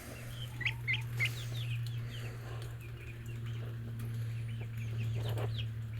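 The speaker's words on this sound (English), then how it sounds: "And you can't tell me that's not a good-looking Cheep." Backyard chickens cluck softly in short scattered calls over a steady low hum, with faint chirps from other birds around them.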